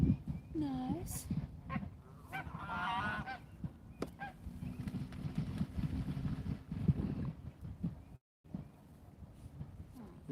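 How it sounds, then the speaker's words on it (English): Geese on the water honk in scattered bursts, some fairly close and loud, among outdoor rumble, thumps and occasional voices. "Man, we got more and more geese coming out there."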